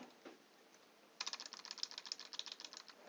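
Computer keyboard typing while entering text in an Excel cell: after a second of quiet, a fast steady run of close, bright key clicks continues to the end, with no voices.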